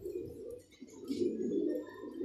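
A racing pigeon coos softly and continuously at close range, a low, throaty warbling that dips briefly then swells again.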